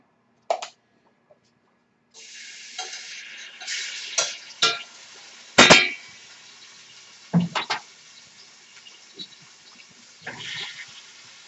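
Garlic goes into hot oil for a shrimp, sausage and asparagus stir fry, starting with a sharp sizzle that continues as a steady hiss, broken by a few louder bursts of spattering and stirring clatter at close range.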